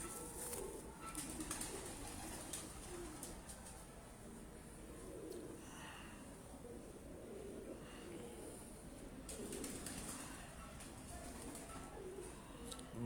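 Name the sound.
pigeons cooing on a rooftop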